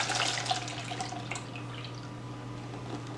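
Vinegar and water drain from soaked cod through a strainer, a close splashing trickle that tapers into light dripping over a low steady hum.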